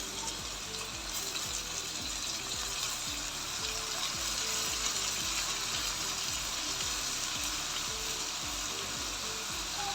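Chicken frying in a pan for Hyderabadi dum biryani, a steady, close sizzle of hot oil running unbroken throughout with faint clinks and stirring beneath.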